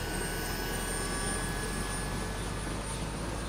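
A helicopter in the video game Rising Storm 2 spins up to take off, giving a steady, dense rotor and engine drone that holds at an even level throughout with no talk.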